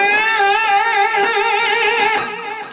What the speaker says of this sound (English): We want an even vibrato.